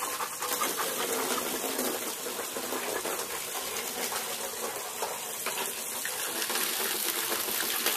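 A dog panting fast and close beside a running garden hose, the breathy rhythmic huffs layered over a steady hiss and gush of spraying water.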